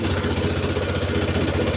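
A small engine drives a termite pest-control chemical sprayer used for soil treatment, running at a steady, loud, close throb with an even rhythm and no pauses.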